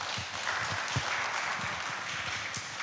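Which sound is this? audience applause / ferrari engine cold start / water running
audience applause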